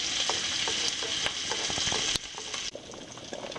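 Grits fry until crispy in a pan, giving a dense continuous sizzle and crackle with scattered spits and pops, briefly dipping before the hiss resumes.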